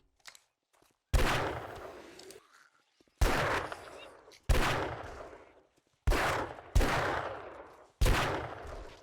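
Pistol gunfire in the modded video game 7 Days To Die: six loud, sharp shots spaced about a second apart, each followed by a long, decaying echoing tail.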